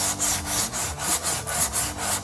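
A metal file stroked back and forth across a flat surface, rhythmic rasping pushes about every half second, close and loud with no talking.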